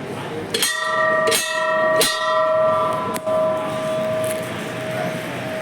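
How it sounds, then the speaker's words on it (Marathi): A bell at an ancient Vishnu temple is struck three times at a steady pace, each clang ringing out with a long shimmering tone that lingers and slowly fades. "तर आता घंटा वाजूया"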